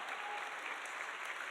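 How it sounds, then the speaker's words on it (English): Steady applause from guests at a charity dinner auction for a dog rescue, a dense, even wash of clapping that holds at moderate volume throughout the short stretch. "give them all a big round of applause"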